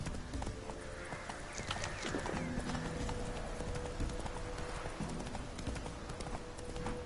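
Horse hooves clip-clopping steadily at a walking pace in The Witcher 3 video game, a faint even rhythm over a soft background ambience.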